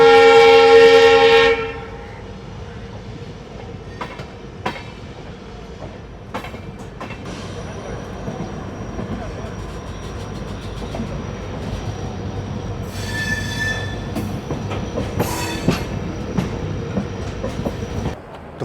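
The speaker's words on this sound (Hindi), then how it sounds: "ब्रॉड गेज की ट्रेन का अराइवल हो रहा है" A broad gauge train pulls into Nathdwara station, a quiet end-of-line stop without overhead wires: a loud horn blast at the start gives way to steady rolling rumble, wheel clatter and occasional squeals as it arrives.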